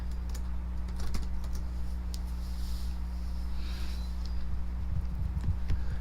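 Typing a terminal command on a computer keyboard: a quick, irregular run of faint key clicks over a steady low electrical hum, with no talk.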